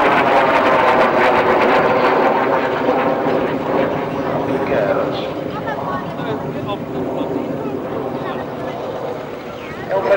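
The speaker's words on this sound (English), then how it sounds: "L39 has been the standard training aircraft for the Czech Air Force and for various other air forces for many years now" An L-39 jet trainer departs Biggin Hill, its loud broadband jet roar strongest at first and easing slightly as it moves off. Someone talks over much of it.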